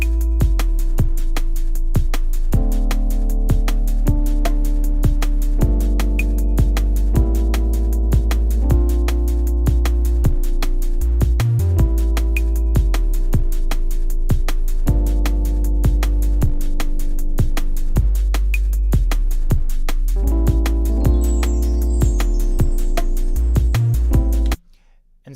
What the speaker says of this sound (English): this is what this sounds like now with the pitch bends on there